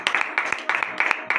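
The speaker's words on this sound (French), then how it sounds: "Veuillez vous lever sur vos pieds et donner de vive acclamation éternelle" A church congregation claps and cheers after a morning prayer in Benin, with bursts of rhythmic applause repeating in quick waves, loud and close, mixed with voices.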